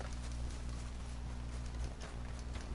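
Hooves of a horse galloping in Red Dead Redemption 2, a steady, dense clip-clop rhythm running throughout under a continuous game soundscape.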